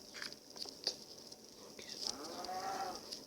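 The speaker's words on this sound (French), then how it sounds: "Il y a les vaches." Cows moo faintly in a video game, in a low, drawn-out call amid soft game ambience and light footstep patter, with a brief spoken word.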